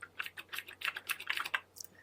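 Key presses typed on an Obsidian NX2 device, a quick run of soft, close taps with little click, spaced irregularly and heard alone with no voices.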